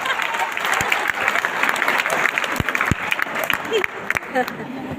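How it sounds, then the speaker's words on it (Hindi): Loud, dense applause from a comedy show audience in Bundi fills the whole stretch, with a few sharper claps and some voices standing out near the end. "तालियां बजा दो जोरदार उसके लिए"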